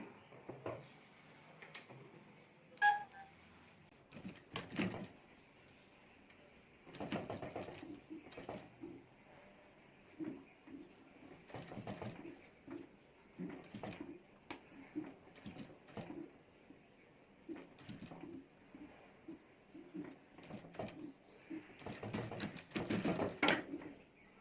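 A sewing machine stitches fabric folded over a fiber sheet for a handmade bag, running in several short bursts separated by quiet pauses and small handling clicks, fairly soft and close.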